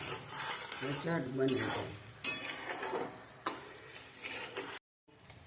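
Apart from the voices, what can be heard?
sugar syrup boiling in a pan on high gas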